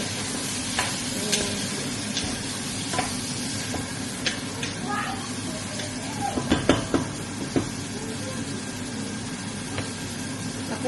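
Onions being stirred in a hot pan sizzle steadily while a noisy exhaust fan hums underneath, with scattered utensil clinks and a cluster of louder scrapes midway through.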